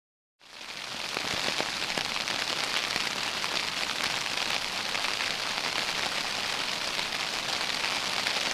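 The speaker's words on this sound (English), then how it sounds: "It's currently raining." Steady rain pours onto a wilderness campsite in Big Sur during a hammock camping trip, rising suddenly from silence into a constant, dense hiss of drops that continues unbroken.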